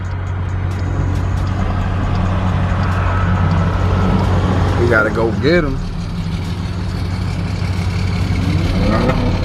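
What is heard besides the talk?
Mustang and Subaru car engines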